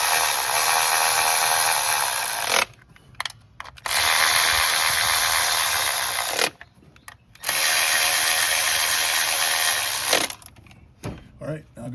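A hand ratchet tightens spark plugs on a Honda CR-V engine. It makes three long stretches of fast, steady clicking, each lasting a few seconds, separated by brief pauses and small handling noises near the end.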